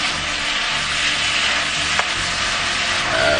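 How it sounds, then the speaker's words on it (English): Chicken sizzles and fries in a hot pan on a stovetop element turned to maximum, with a steady loud crackle and occasional scrape of stirring, no talking. "you re-add your chicken in there. You mix it well"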